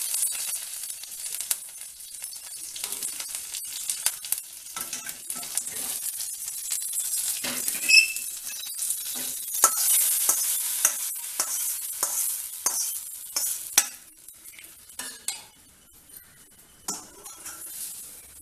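Asafoetida, dried chillies and curry leaves crackle and sizzle in hot oil in a pan for wheat rava upma, with steady close frying hiss, repeated spatula scrapes and stirring, and a few light metallic clinks.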